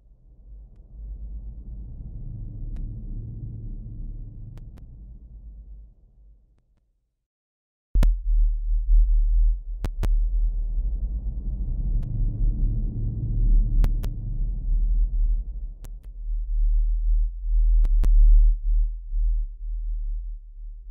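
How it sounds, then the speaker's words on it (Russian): Low rumbling hum and drifting noise build a dark forest ambience for a Unity 3D scene, swelling and fading with a sudden cut and thin chirping tones over a steady deep drone. "А сейчас все к той же картинке мы добавим немножко гула, низких частот и различных шумовых эффектов"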